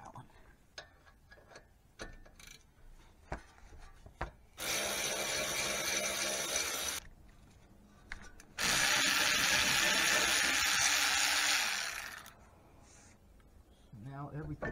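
A 7mm Allen bit works the rear brake caliper slide bolts on a 2017-2023 Alfa Romeo Stelvio. Two long, loud, steady bursts of tool whirring are separated by quieter clicks and handling noises.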